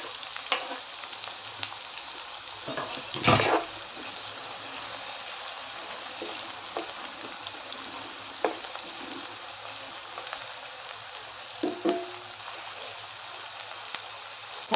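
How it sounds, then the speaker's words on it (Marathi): Onion and garlic frying in a pan for zunka, a steady close sizzle running throughout with a few louder stirring clatters and scrapes, no talking. "यात टाकूया लसूण पण. याला छान लाल होईस्तोवर परतून घ्यायचे."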